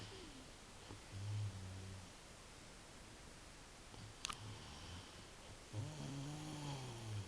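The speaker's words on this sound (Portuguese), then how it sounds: "Depois dizem que princesa não ronca." A sleeping girl snores softly in a quiet room, with three or four low, drawn-out snores at irregular intervals over steady faint background hiss.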